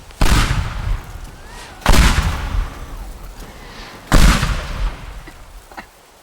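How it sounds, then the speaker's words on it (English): Three heavy explosions go off in the video game Teardown, each a sudden loud boom followed by a rumbling, crackling decay, spaced a couple of seconds apart. "now it's exploding"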